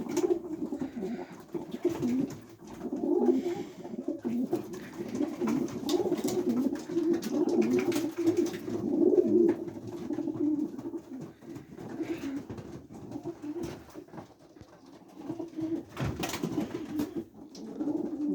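Pigeons coo steadily and close by, a low rolling murmur of several birds overlapping throughout, with brief pauses in places, in a loft of male flying pigeons on a mild day.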